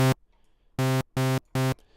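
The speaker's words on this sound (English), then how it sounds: "we're gonna have the saw wave on top and the square wave on the bottom to kind of create our basic sound" Harsh synth tone built from a saw wave layered over a square wave an octave lower, for a Stranger Things-style theme, sounds in three loud sustained bursts of equal length after a short opening hit, with silence between them.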